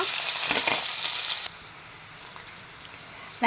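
Sliced onion frying in two tablespoons of oil in a pan: a loud, hissing sizzle for the first moment, then settling into a quieter, steady frying hiss.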